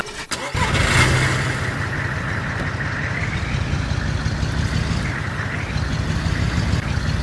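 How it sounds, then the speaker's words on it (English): In the video game DayZ, a Hummer's engine starts with a sharp click and catches, then settles into a loud, steady rumbling roar that holds for several seconds, with no one talking. "Pedal to the metal, the Hummer thundered forward"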